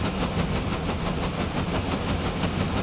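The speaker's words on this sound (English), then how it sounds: "I also feel like the engines are not turning off." Ship engines of a full-scale Titanic running in Stormworks, a steady loud mechanical rumble with rhythmic chugging pulses that holds at an even level throughout, with no talk over it.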